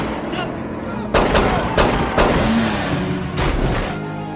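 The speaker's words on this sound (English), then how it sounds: "they got ambushed by gunshots" Several sharp gunshot bursts crack out over a car engine's rumble, with a shouted voice among the shots, like an action scene.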